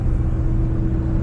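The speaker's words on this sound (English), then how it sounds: "Car runs so smooth whenever it's actually got all 8 cylinders" A 1972 Chevrolet Impala V8 idles smoothly on all eight cylinders, a steady low rumble close by with no talking.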